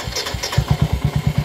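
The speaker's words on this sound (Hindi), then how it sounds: "देख सकते हो गाइस बिल्कुल प्रॉपर तरीका से स्टार्ट उठ गया है बाइक का इंजन" A Royal Enfield Hunter 350 motorcycle with keyless entry fires up and settles into a close, steady thumping idle, its single-cylinder beat regular and distinct, with no voices over it.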